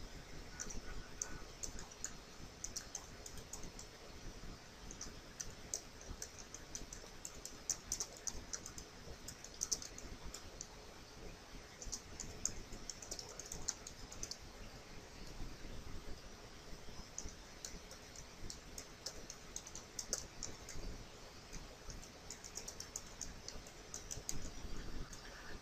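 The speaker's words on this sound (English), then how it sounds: "Now let's type this in." Typing on a computer keyboard while entering text into a WordPress page, a steady stream of soft, quiet key clicks with uneven rhythm that runs for the whole stretch, with no voices.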